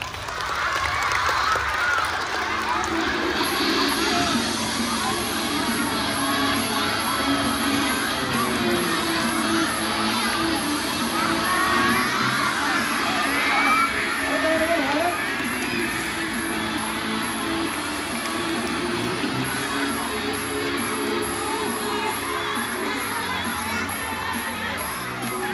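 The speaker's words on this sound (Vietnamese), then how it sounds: "các bạn hãy vỗ tay thật là lớn để chào đón bạn thỏ xuất hiện nào" Children at a stage show shout, cheer and clap to welcome a rabbit performer, a loud, continuous crowd roar of young voices with scattered applause that holds steady throughout.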